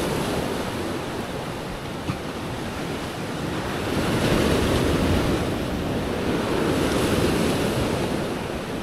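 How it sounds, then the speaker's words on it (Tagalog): Ocean waves surge and crash continuously, a broad rushing roar that swells louder midway, mixed with wind buffeting the microphone. "Malaking alon, ha?"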